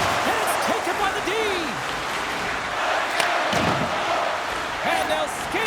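A home arena crowd roars steadily in the NHL 26 hockey game, New York Rangers against Buffalo Sabres, with a continuous wash of cheering under a play-by-play commentator's voice.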